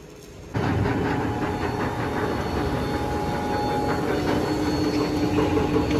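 A biomass sawdust briquette machine for charcoal making, heated to 320 °C with its propeller rotating, kicks in after a brief quiet moment and then runs as a loud, steady, rumbling mechanical drone with a constant hum.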